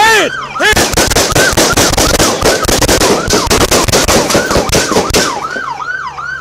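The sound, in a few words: police gunfire during officer-involved shooting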